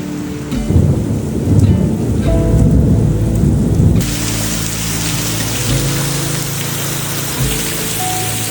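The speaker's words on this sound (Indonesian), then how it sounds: "Akhirnya hujan, gila adem banget." Steady rain falls with a loud, deep rumble of thunder rolling through the first half, then easing into continuous heavy rainfall on surfaces.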